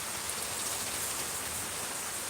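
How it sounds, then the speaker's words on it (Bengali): Heavy morning rain falls steadily and evenly, a dense continuous hiss with no voices, heard from a balcony. "ভাবলাম বৃষ্টির সকাল থেকে আজ বাইরে বের হতে পারবো না বৃষ্টি অনেক বেশি"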